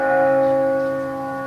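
A single bell strikes once, loud and near, its steady ringing tone with layered overtones sustaining and slowly fading, with no voices over it.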